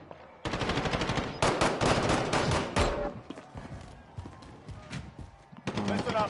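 Automatic weapon fire in a video game starts abruptly and rattles in long rapid bursts, loud and close, pausing briefly before another volley returns near the end, with speech mixed in.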